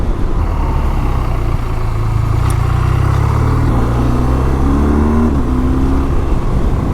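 A BMW R 12 G/S motorcycle accelerates hard on a ride, its engine roaring loud and close, pitch climbing steadily through the revs, with wind rush throughout and no voices.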